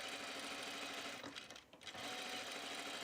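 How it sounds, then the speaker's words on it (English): Sewing machine running with top thread only and no bobbin, a continuous quiet whirring hum that briefly dips midway before resuming, close and alone. "it's probably the top thread trying to sew without a bobbin"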